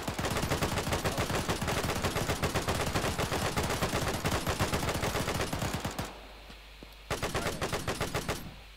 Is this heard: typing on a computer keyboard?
no